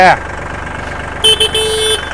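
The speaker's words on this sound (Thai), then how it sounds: "แตร" A used Iseki 42-horsepower tractor's horn honks in short bursts, three quick blasts, loud and close over a steady idling engine.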